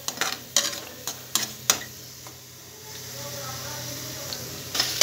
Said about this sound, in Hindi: अब थोड़ी देर से आलू को पका देंगे।